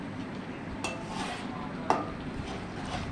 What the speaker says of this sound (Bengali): চালের গুঁড়োটা দিয়ে ভালো করে নাড়তে হবে যাতে না নিচে না লেগে যায়